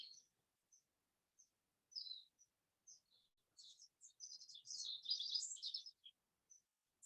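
Birds sing outdoors in short, high chirps and trills, sparse at first and then a denser burst of twittering, faint and somewhat distant in an otherwise quiet scene.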